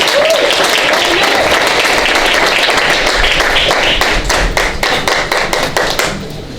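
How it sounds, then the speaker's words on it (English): Audience at a boxing post-fight press conference breaks into loud, dense applause, sustained claps close by that thin out and fade toward the end. "Please give a round of applause from Guadalajara, Jalisco, Mexico, Abner Mares."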